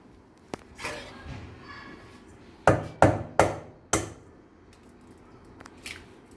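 Four sharp cracks of eggs being broken, one after another, for wormwood eggs, with a softer tap or two before and after; close and distinct, no talking.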